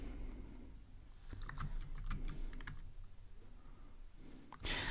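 Fingers typing Kotlin code on a computer keyboard, a steady patter of soft key clicks with a few sharper taps, close and quiet, no talking.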